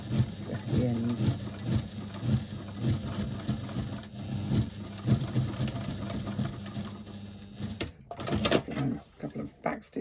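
A sewing machine stitches a bag in short bursts, close and fairly quiet, broken up by handling clatter and a louder knock near the end, with a person talking throughout.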